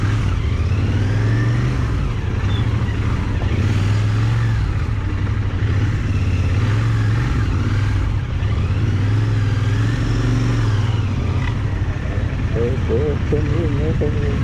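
Busy road traffic outside a school at dismissal time, with cars, motorcycles and e-bikes; a steady engine drone with revving passes continues throughout while people talk over it.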